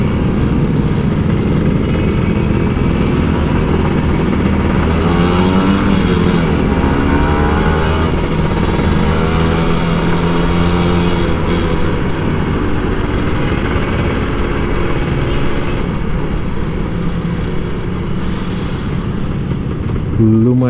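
Old Kawasaki Ninja RR 150 two-stroke motorcycle ridden at night through Jakarta traffic, a loud, continuous engine drone with rising and falling revs and wind rush, close and steady throughout.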